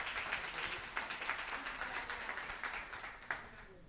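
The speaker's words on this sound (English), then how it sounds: "Give Mike a round of applause, please." Audience applause at a business summit, a moderate, steady patter of many hands clapping, somewhat distant and fairly quiet, with faint voices underneath.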